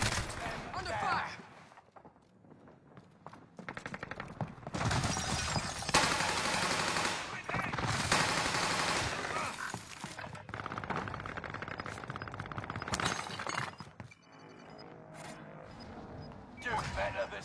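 Rapid video game gunfire rattles in dense, loud bursts through a live tournament stream, with short pauses between volleys and voices talking over the shooting.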